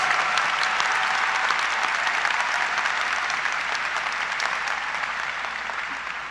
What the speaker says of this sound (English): Let's have a round of applause for our 2021 Bright Flight recipients and parents.